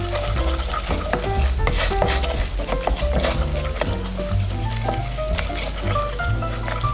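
A flour roux for brandy sauce is stirred in a pan, giving a busy, continuous scraping and sizzling close by, with light clinks and background music underneath.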